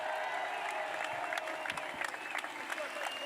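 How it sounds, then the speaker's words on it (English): A large crowd applauds steadily at a Tennessee baseball team championship celebration downtown, a dense wash of clapping with scattered cheers, heard from within the audience. "Another round of applause for Xander and Kirby, Simo, Hunter Ensley, a"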